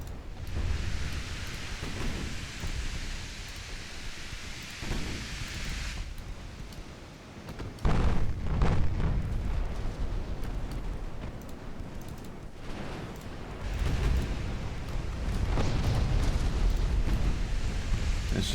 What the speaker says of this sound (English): Letting the Stormbreaker to just shoot away